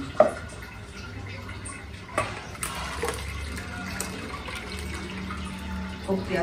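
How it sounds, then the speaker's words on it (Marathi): Ground coconut extract being strained for solkadhi, liquid trickling and splashing into a vessel with occasional knocks, close and moderately loud, with faint voices now and then. "पाणी घालून घेतलं तर आपण गाळून घेऊया."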